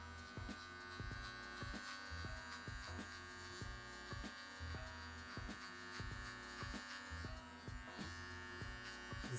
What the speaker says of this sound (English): I'll take the clipper with nothing on it and open it a third.